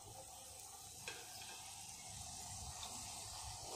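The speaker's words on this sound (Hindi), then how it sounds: "सारे समोसे जो फ्राई हो रहे हैं" Vegetable samosas fry in hot oil with a steady, quiet hiss and faint crackle, broken by a few soft clicks and bubbling, heard from close by and with no voices.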